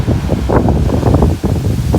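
Large sea waves wash onto a Portuguese beach in late February, with wind blowing across the microphone. The result is a continuous, loud, rushing surf-and-wind roar with no voices.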